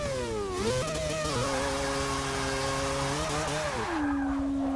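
An Audi R8 fitted with a Mazda quad-rotor engine in Forza Motorsport 6 revs close up, its buzzy rotary note climbing and shifting through several gear changes before settling into a steady high drone.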